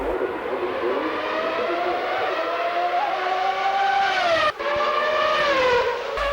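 Formula One cars scream along the Adelaide street circuit, a loud continuous high-pitched engine whine with pitch sweeps as cars pass close by, briefly dipping before another car roars through.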